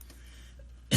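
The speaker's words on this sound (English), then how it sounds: "I'm just coughing because I'm talking so much" A man gives a single short, loud cough close by at the end, after a moment of near quiet.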